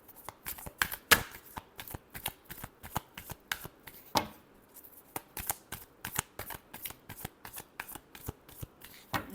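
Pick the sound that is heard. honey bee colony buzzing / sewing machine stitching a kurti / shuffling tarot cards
shuffling tarot cards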